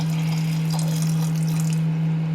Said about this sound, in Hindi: इस गिलास से मैं पानी डाला है